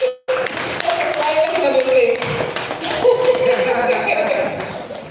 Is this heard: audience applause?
yes